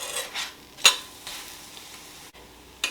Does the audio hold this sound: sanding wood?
no